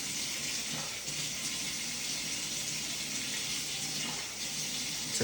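Water pours steadily into a hot pot over rice and a noodle packet, a continuous soft rushing splash that stays even and fairly quiet for several seconds, with no talking.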